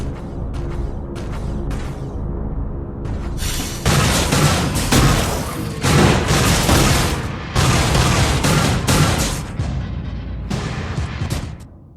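Semi-auto weapon fire against robots in the video game The Fall: loud clattering shots and heavy impacts in repeated bursts over a mechanical, creaking backdrop, with a quieter lead-in of sparse clicks.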